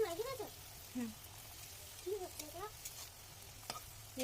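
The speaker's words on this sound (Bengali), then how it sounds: "কড়ার তেল গরম হয়ে গেছে এবারে আমি এটা সুন্দর করে ভেজে নেব লাল লাল করে এরকম" Snacks frying in hot oil in a kadai give a steady, soft crackling sizzle, broken now and then by brief murmuring voice sounds.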